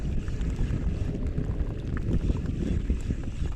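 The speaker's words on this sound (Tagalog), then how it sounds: "Daming bangka." Steady broadband rumble of small fishing boat motors and wind over open water, continuous and fairly loud with no voices.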